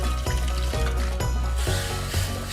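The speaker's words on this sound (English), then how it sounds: "I love the sound of sizzle." Liquid sizzles steadily in a hot pot as gravy is started for shrimp and grits, a loud, close crackle with a few soft stirring knocks and scrapes spread through it.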